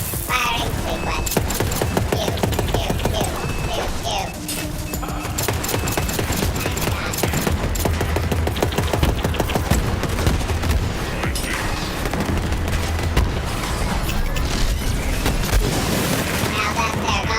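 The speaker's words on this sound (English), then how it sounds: "Commence firing sequence." Heavy, continuous gunfire and explosive booms in Borderlands 3, a dense, loud barrage of overlapping shots that runs almost without a pause, with voices talking over the shooting.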